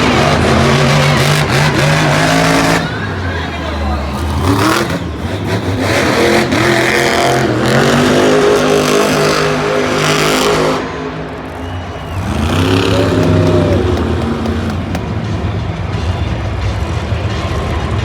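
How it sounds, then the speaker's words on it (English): Monster trucks race at a Monster Jam competition in an arena in Cleveland, Ohio, their engines roaring loud and close, rising and falling through repeated revving sweeps over a constant crowd din, with a brief dip before the roar returns. "Your winner of Monster Jam Racing for the second week in a row is Camden Murphy, Bakugan Dragonoid."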